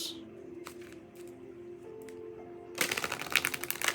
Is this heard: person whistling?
no